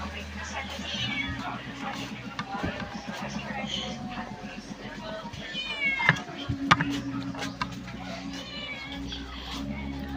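A cat meows several times amid a busy background of clattering and people talking, with the cries fairly close and clearly audible over the room noise while someone is about to feed the animals fish.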